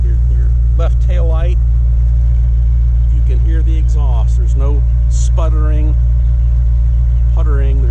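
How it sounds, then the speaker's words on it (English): A 1948 Packard Custom Eight V8 idles with a smooth, even exhaust hum, a steady low drone running throughout beneath a man's close, continuous talking. "You can hear the exhaust. There's no sputtering."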